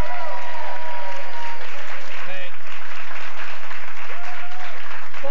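Studio audience of a Quebec talk show applauding, a loud steady wash of clapping with a voice speaking briefly over it.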